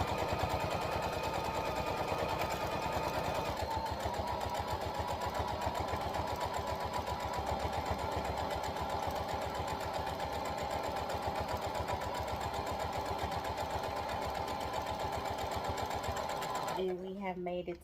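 A sewing machine runs steadily, straight stitching all the way down a fabric key fob, its rapid needle rhythm continuous and close before stopping abruptly near the end.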